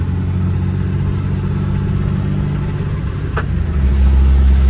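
Cummins diesel pickup with an MM3 tuner and custom tune, driven in the rain: a steady loud engine drone seen from the cab, swelling louder near the end as it pulls harder.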